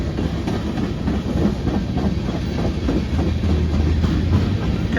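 A westbound Norfolk Southern freight train rolls past at a crossing in Chesterton, Indiana, a steady close rumble of railcars with rhythmic clickety-clack of wheels over the joints, continuous and fairly loud throughout.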